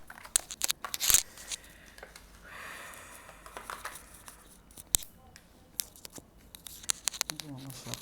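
Close rustling and slapping of tarot cards being shuffled in quick irregular bursts, with sharp snaps and crinkles, a voice murmuring in between.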